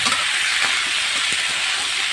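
Peas crackle and sizzle in a hot pan in a home kitchen, a dense steady frying hiss with faint stirring, no voices.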